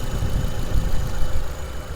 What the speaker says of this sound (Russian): Вот так вот шепчет наш моторчик. Очень тихонько работает.